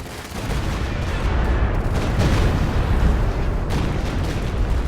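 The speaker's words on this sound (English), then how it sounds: "Looks like that Stuka barrage was targeting the last location of the Katyusha" Dense, continuous rumble of a Stuka artillery barrage in Company of Heroes 2, overlapping explosions and booms blending into a loud roar with no clear gaps, no talking.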